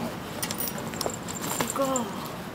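Keys jingle in short metallic bursts as they are handed from one person to another on a walk through Al Safa, with nearby talk and street noise around them.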